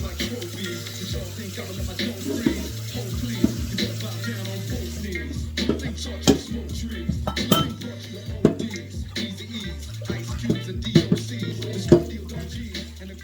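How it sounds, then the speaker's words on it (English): Dishes and pots clink and clatter while basmati rice is prepped at a kitchen sink, with irregular sharp knocks and rattles over a steady low hum and some running water. "Just prepping some rice that I want to cook later."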